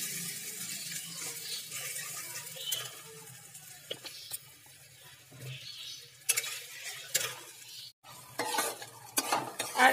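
Masala frying in oil for a makhana curry, with the spices releasing oil in the pan: a steady soft sizzle runs throughout, broken by close clinks and scrapes of a spoon stirring against the pan.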